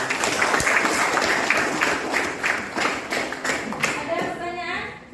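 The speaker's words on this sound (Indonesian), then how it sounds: "tepuk tangan untuk kelompok 1" Students in a classroom applaud a presenting group during a biodiversity lesson, steady loud clapping from many hands that carries on for several seconds, with voices chattering over it toward the end.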